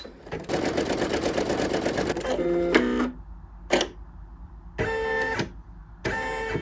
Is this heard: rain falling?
no